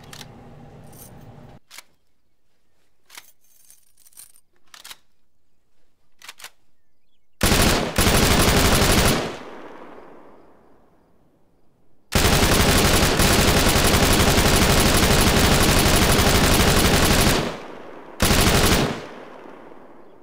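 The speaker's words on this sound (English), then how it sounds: "Tried to fire a few rounds here." Rifle fire in Arma 3 on the Tanoa map: a few scattered single shots, then two loud sustained automatic bursts with a brief final burst, close and dominant.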